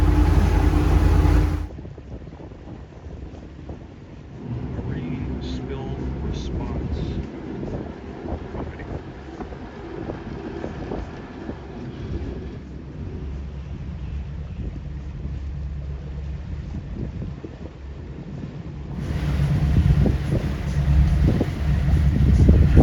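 A boat motors along a channel on the Intracoastal Waterway near Savannah, giving a steady, continuous engine drone mixed with heavy wind buffeting on the microphone, with no talking.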